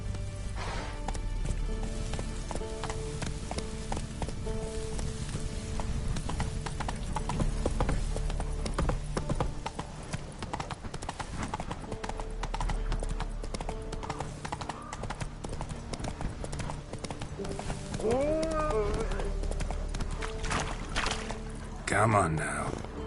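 The horse Roach plods along in The Witcher 3 with steady, rhythmic hoof clip-clops that stay close and continuous, while brief speech and a short whinny-like cry rise near the end.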